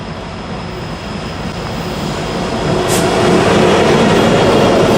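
N&W 2156 steam locomotive on a night ferry move, its train rolling past close by with a loud, steady broadband rumble and clatter that builds and stays strong, one brief sharp hiss partway through.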